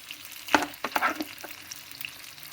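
Fenugreek and cumin seeds dropped into a small amount of hot oil for a tomato pickle, giving a few close crackling bursts with a soft sizzle that settles and fades.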